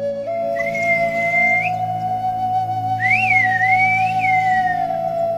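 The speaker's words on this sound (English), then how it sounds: "families can talk to each other whistling" Canary Islands whistled language: a long steady whistled tone with rising and falling melodic whistles above it, loud and close, over a low background hum.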